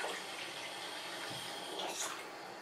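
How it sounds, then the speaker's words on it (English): Cold tap water flowing through an Aqua Ionizer Deluxe 7.0 water ionizer unit, a steady hissing rush with a small splashy surge near the end, close and moderately loud, with no voice. "the water's going through the unit out and I'm leaking"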